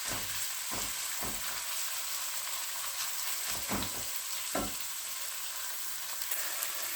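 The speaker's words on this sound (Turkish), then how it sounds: "Patateslerini iyice kavuracağım." A medium potato, grated, fries steadily in a pot for a winter vegetable chicken soup, with a constant close sizzle broken by several soft scraping stirs.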